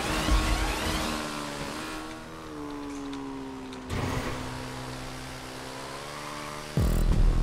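A motorcycle engine in the GTA V video game drones steadily, its pitch sliding and climbing through gear changes with abrupt jumps in loudness, with no talk over it.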